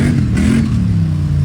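Polaris Sportsman ATV with a HighLifter lift doing a wheelie at a mud race, its engine revving loudly and close in a sustained throaty roar, pitch shifting slightly, with no speech.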